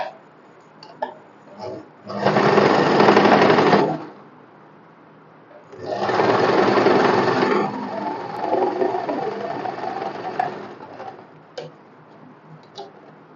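A sewing machine double-stitches the shoulder seam of a cotton one-piece summer dress, running in two bursts of steady, rapid mechanical stitching, each a couple of seconds long, with quieter handling noises between.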